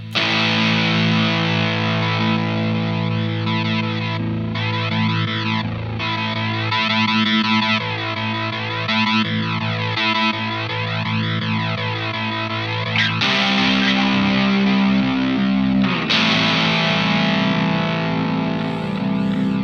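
Heavily fuzzed electric guitar run through a Chase Bliss Onward delay pedal in glitch mode, with warbling, sweeping repeats and stuttering artifacts, loud and continuous with sudden textural shifts.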